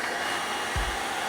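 Steady whooshing blower air drying off a freshly washed truck with a Stars and Stripes paint side, a continuous close rush with a brief low thump partway through.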